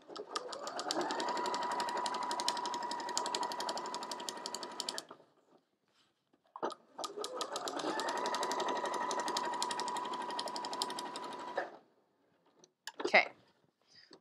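A sewing machine runs straight-line quilting stitches in two long, steady bursts of about five seconds each, separated by a pause, with a brief rustle of fabric being smoothed near the end.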